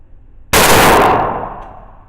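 A rifle chambered in 300 Blackout has its charging handle racked once, a single loud, sharp metallic clack that rings off and fades over about a second and a half, with no voices.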